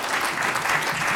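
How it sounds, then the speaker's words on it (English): A round of applause from an audience at a family welcome meeting, as a shy organizer is thanked; dense, steady clapping fills the whole stretch at moderate level. "please give her a round of applause"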